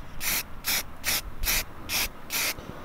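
Six short bursts of aerosol spray paint hiss in a steady rhythm with brief pauses between, close by and fairly soft.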